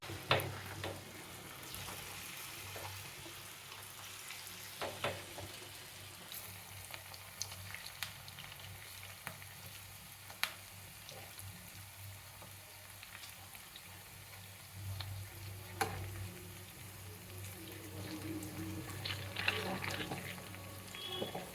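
Bottle gourd fritters (lau bora) fry quietly in a pan, a soft, continuous bubbling sizzle with a few clinks and scrapes, heard at a distance and growing slightly louder toward the end.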